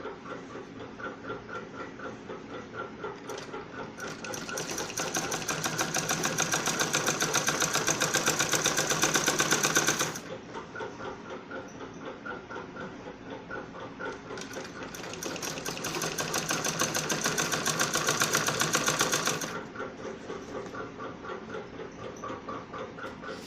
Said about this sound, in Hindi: तो इसको हम ऐसे पूरे में सिलाई लगा लेंगे, ऐसे कर्व के हिसाब से पट्टी को घुमाते हुए।